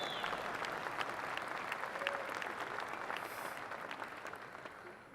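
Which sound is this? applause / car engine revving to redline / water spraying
applause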